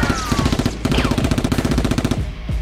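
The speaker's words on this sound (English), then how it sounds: "starts shooting at the criminals." Toy Nerf guns fire in rapid, rhythmic bursts during a mock SWAT shootout with criminals, a steady near stream of clattering shots punctuated by a couple of brief pauses.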